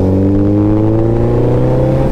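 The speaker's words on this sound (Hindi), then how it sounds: "तो भाई आज अपने पास हायाबुसा, तो भाई आ जाओ थोड़ी सी बाइक खींच के देख ले फिर।" A Suzuki Hayabusa motorcycle engine revs close and loud, a deep steady rumble whose pitch climbs slowly as it is pulled, with no speech.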